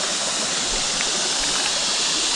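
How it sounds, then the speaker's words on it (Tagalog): Clear stream water flowing steadily and loudly close by, a continuous rushing babble with no voices over it. "malinis tong tubig na to guys kasi"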